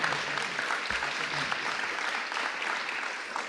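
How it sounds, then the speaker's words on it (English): An audience at a district attorney's press event on youth programs to prevent gun violence claps in a dense, steady round of applause, close and continuous throughout. "So let's give them a hand."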